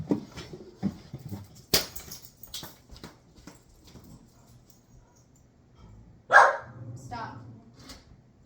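A dog indoors gives a few sharp, scattered barks, one loud burst standing out near the end. Between the barks a person talks calmly in the foreground.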